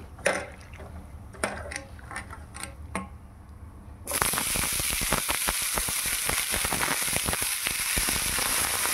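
Chopped bottle gourd drops into hot tempering oil in a pan: a few crackling pops of spices give way abruptly to a loud, steady sizzle full of sputtering crackles.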